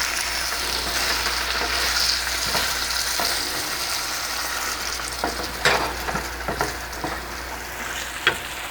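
Spice masala for a hilsa malai curry fries hard in a pan, giving a close, continuous sizzle with occasional stirring scrapes and clicks.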